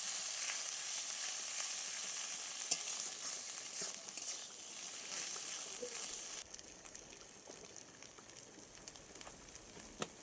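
Greens (shak) being stirred and dry-fried in a pan, a soft continuous sizzle with faint scrapes and occasional light taps of the spoon, fairly quiet throughout.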